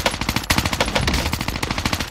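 An Owen Gun submachine gun firing in a video game, a loud close burst of rapid automatic shots in quick even rhythm lasting about two seconds.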